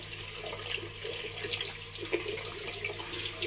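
Tap water runs steadily into a sink for rinsing, a soft continuous splashing hiss heard close by at low volume.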